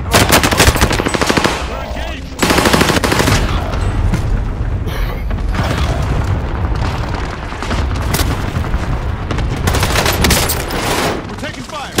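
Dense, continuous automatic gunfire and heavy booms from a Call of Duty match roar for the whole stretch, loud and close, with game chatter mixed in.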